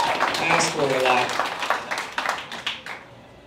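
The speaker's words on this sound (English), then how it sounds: "Everybody give her a round of applause" Audience applause for a nurse at a stand-up comedy showcase in Bend, a dense wash of clapping that starts full and thins into scattered claps, with some speech mixed in.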